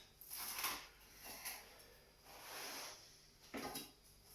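Soft scraping and clinking as a chocolate chip cookie pizza with soft cookies is sliced, a few quiet, separate strokes of a utensil against a pan or plate with pauses between them.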